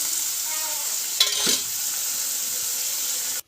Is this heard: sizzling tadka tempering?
yes